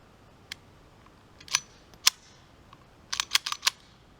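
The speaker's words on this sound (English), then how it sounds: "let me get the mag out here" A pistol magazine is pulled out in a string of sharp metallic clicks and snaps, with single clicks at first and then a quick cluster near the end, close and crisp against a quiet room.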